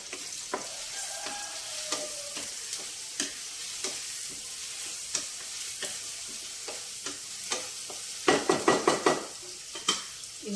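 Curry leaves fry in a pan with onion, a soft sizzle running under scattered scrapes and taps of a spoon against the pan, ending in a quick burst of stirring strokes.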